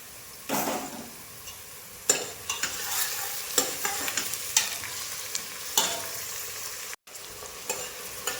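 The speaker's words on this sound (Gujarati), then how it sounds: "ટામેટાને પણ થોડી વાર માટે સાંતળી લઈએ." Tomatoes and onions sautéing in a pan for masala khichdi, with a steady sizzle and repeated stirring scrapes near the microphone that recur every second or so.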